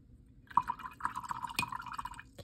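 A Kakimori brass dip pen nib is rinsed in a jar of water, giving faint, close splashes and a few light drips and clinks against glass.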